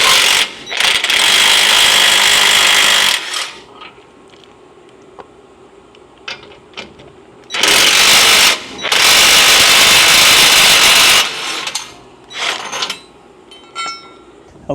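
An impact power tool removing two 15 mm tow hook bolts under a Ford F-150, with loud close bursts of rattling whir separated by pauses, plus small metallic clinks.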